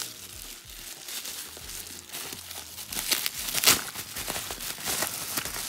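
Plastic wrappers of Topps Project 2022 trading card packs crinkling and tearing as they are opened, continuous close rustling that grows louder midway, no talk.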